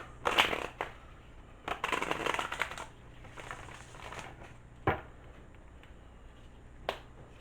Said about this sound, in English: Didn't feel good with that deck shuffling like it did. So I'm going to redo it.